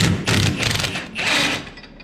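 Ratchet turning a 15mm pinch bolt on a Polaris RZR/Ranger A-arm, three quick bursts of clicking close up with short pauses between them.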